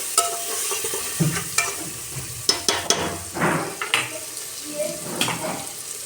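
Spices and kasuri methi frying in hot oil for khichdi, stirred with a utensil that scrapes and taps against the pan in irregular strokes over a steady close sizzle, with no talking.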